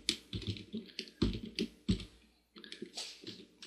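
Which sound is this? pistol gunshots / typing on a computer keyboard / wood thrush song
typing on a computer keyboard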